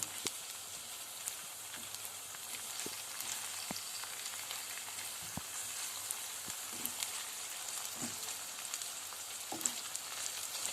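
Chicken liver sautés slowly in a pan, giving a faint, steady sizzle with small scattered pops and ticks throughout, quiet and close, with no voices.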